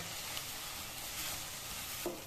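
Half a cup of sesame seeds stirred in a hot pan while making an orange-lemon peel pickle, giving a steady close sizzle with light scraping strokes throughout.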